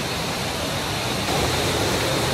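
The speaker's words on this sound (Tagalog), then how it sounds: "Maingay talaga kasi tingnan mo yung tubig, oh." Loud rushing water at a waterfall in a sacred indigenous site, a dense, steady roar close by that fills the whole span without a break.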